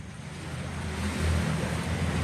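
Big waves churn on a river under an overcast sky, a steady, loud rush of rolling water and wind noise that swells slightly toward the end, with no talking.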